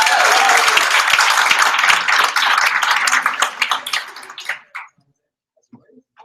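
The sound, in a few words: audience applause at hackathon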